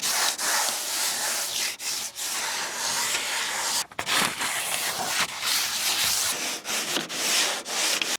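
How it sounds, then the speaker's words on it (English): Sandpaper worked by hand scrubs old paint off a fishing boat hull in steady, close, rasping back-and-forth strokes with short breaks between passes, and no one talks over it. "We're actually rubbing this paint off."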